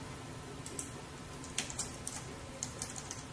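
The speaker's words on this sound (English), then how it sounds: "we type the name, Kevin, and we continue" Quiet keystrokes on a computer keyboard as a student's name is typed into a class roster, a loose run of soft clicks with small bursts, alone with no talking.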